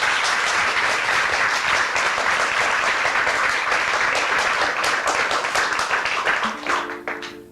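Studio audience of a 1993 TV talk show claps loudly and continuously, a full, dense roar of hands that carries on for several seconds before tapering off as a few sustained musical tones begin near the end.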